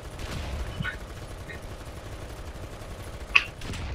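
An M2A4 tank's cannon fires once in War Thunder, a single sharp shot standing out over a constant low engine rumble, with faint talking around it.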